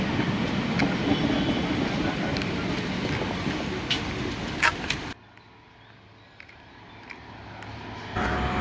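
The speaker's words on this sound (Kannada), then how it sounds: "ನೋಡ್ರಿ, ಹಂಗ ಟ್ರೈನು ಸ್ಟಾಪ್ ಆಗತ್ತಿ." A passenger train slows to a halt at a station, its loud broadband rumble and rail clatter cutting off abruptly midway, leaving quieter ambient station noise with faint hum.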